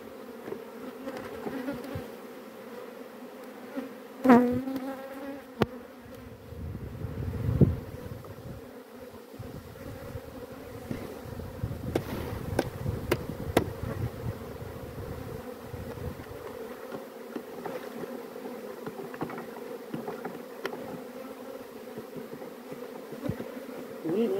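Honeybees buzz around a hive, a continuous close hum with a few louder passes and bumps, while wind rustles the microphone at times.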